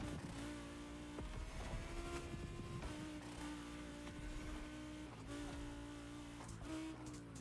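A race car engine at full throttle in a racing video game, a steady, loud whining drone with slight pitch rises and dips as it shifts and accelerates, with no talking over it.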